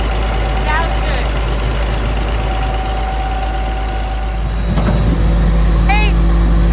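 Steady, close diesel idle from the DT466 engine of a 1999 International 4700 truck, a continuous low drone with slight shifts in tone and short bits of talk over it.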